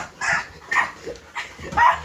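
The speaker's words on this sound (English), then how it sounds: "Laser guided dogs. Laser guided puppy." A puppy barks in four short, yappy bursts spaced about half a second apart, close to the microphone with no talking over them.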